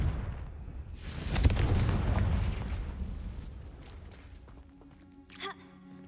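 A Confringo fire spell is cast in the Hogwarts Legacy video game, bursting into a booming rumble that swells and slowly fades over several seconds, followed by a few sharp magical chimes and effects.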